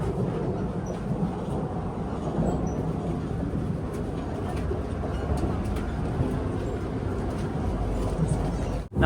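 Interior of a Malaysian ETS express train running from KL Sentral to Butterworth, with a steady low rumble and rolling wheel noise filling the cabin, constant and moderately loud.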